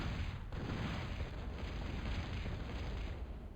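Artillery shells land in a Total Annihilation battle, making a dense, continuous rumble of booming explosions that rolls on for several seconds at a fairly even loudness.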